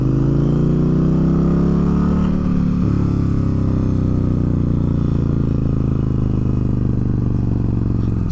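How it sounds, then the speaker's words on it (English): A 2023 Indian Challenger motorcycle engine drones steadily up close while engine braking, its tone sliding down slightly as it decelerates, with a faint jet-like whine riding over the rumble. "when you're engine braking on this bike, I don't know if you can hear that, but it's kind of like a little jet engine"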